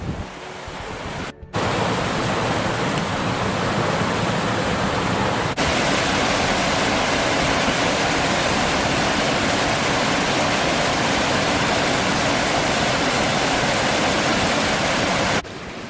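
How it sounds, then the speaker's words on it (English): A river rushing beside a bridge in the Otira Valley, Arthurs Pass National Park, makes a loud, close, steady roar of flowing water with one brief dip early on. "I'm just sitting next to the river near the bridge."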